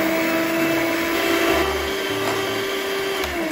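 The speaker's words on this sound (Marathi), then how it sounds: "1 वाटी दही घेऊया आणि इलेक्ट्रिक बीटरच्या साहाय्याने त्याला फेटून घेऊया" An electric beater whisks curd in a bowl, giving a steady, loud motorized whine and buzz that holds without a break, close by and with no voices.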